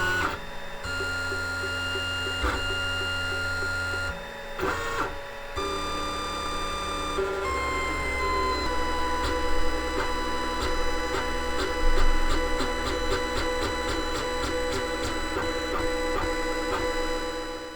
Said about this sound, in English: You may have noticed the printer was going pretty slow, and it does that for NinjaFlex